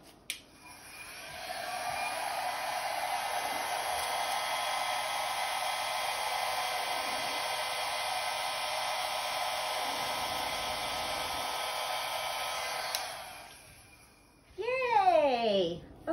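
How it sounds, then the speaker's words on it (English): A blow dryer hums steadily and close for about eleven seconds while drying fluid art paint in a pearl pour, switching on near the start and off near the end, followed by a brief voice. "So let me grab my blow dryer."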